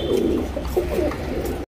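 Pigeons coo in a loft, a close, soft, warbling murmur of several birds layered over a low background hum, with no talking, ending abruptly.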